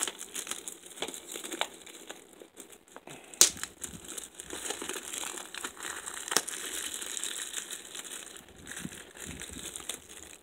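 Plastic wrapping is peeled off a Shenmue HD game case, giving close, quiet crinkling and crackling in uneven bursts with one sharper tearing snap, and no voices over it.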